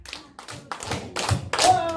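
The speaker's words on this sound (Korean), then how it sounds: "다시 한번 박수 다섯 번 시작" An audience claps together in five sharp bursts at a rural singing-volunteer show in Bokheung-myeon, Jeonbuk, with janggu drumming on the program; the claps are fairly loud and close and rise slightly toward the end, with a brief tone at the close.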